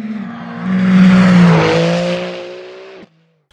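The Vanwall Vandervell 680 Le Mans Hypercar passes close by, a loud engine note rising and then easing away over about three seconds before cutting off abruptly into silence.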